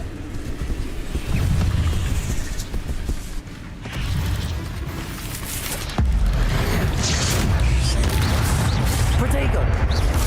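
The Incendio fire spell in the video game Hogwarts Legacy bursts out in heavy whooshing booms that come back in waves, loud and close, under a person talking.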